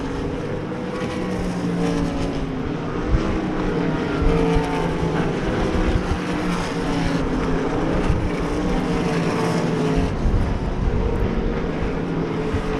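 Race cars roar around Devil's Bowl Speedway on the final lap, a dense, continuous wall of engine noise with rising and falling passes, loud and sustained throughout with no voices.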